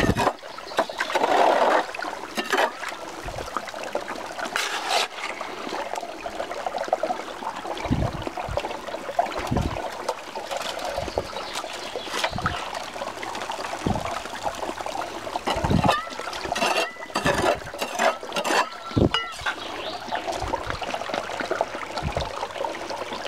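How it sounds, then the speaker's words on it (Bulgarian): River water rushing and trickling about ten metres above where two rivers meet, spilling over a rock slab; a steady broadband flow with intermittent splashy bursts, close and continuous, no voices. "Става някакъв скок на водата от тази плоча."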